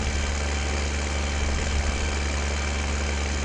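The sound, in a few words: tractor engine running in a farming video game on PS4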